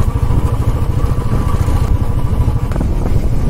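A motorcycle rides along a mountain road near Almora, its engine a loud, close, continuous low rumble with a slight clatter throughout, alone without talk.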